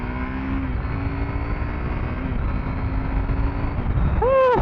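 A 2024 KTM 790 Adventure motorcycle engine drones steadily and close under wind noise, holding a sustained pitch throughout, with a short rising whine at the very end.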